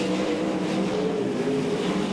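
Sprint car engines roar together at Archerfield Speedway in a Queensland title A-Main race, a loud steady droning snarl from several cars circulating at once, with no talk heard.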